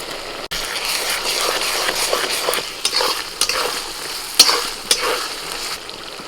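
Half-fried onions with garlic and ginger paste fry with a steady hiss, punctuated by repeated scraping strokes of a spatula stirring the pan.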